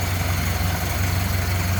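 A 1929 Ford Model AA truck's inline four-cylinder engine with a single downdraft carburetor idles smoothly, a steady, loud, close low rumble with an even mechanical pulse and no talk.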